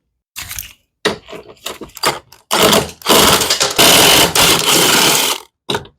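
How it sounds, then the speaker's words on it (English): A power driver whirs in short bursts then longer runs, loud and close, removing bolts from a Generac GP2200i portable inverter generator laid on its side. "remove these 4 bolts, loosening this up"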